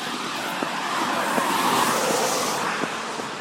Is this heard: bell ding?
no